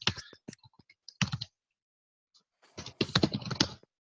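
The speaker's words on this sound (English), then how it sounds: "obviously then you type in the email address" An email address is typed on a computer keyboard in short bursts of close, crisp key clicks, with a pause of about a second in the middle and no talk.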